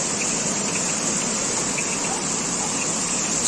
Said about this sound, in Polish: Co jest? Jaka ulewa?